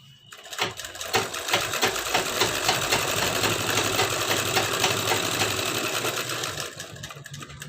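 A sewing machine stitches a blouse, starting up after a moment and then running in a continuous close, loud, even mechanical whir for several seconds before slowing at the end.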